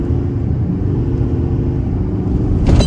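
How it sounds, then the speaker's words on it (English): A 2023 Chevrolet Silverado 3500 High Country dually pickup pulls away from a standstill, its engine a loud, steady low rumble heard from inside the cab, swelling slightly at the end. "We'll try out an acceleration off the line."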